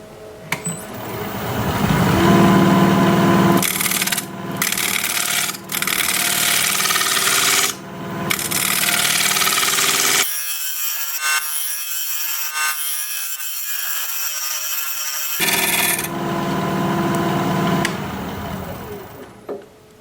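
A wood lathe spins a pedestal piece while a carbide tool thins its wall, producing a loud, continuous rasping scrape with brief breaks as the tool lifts and a longer quieter stretch mid-way before cutting resumes.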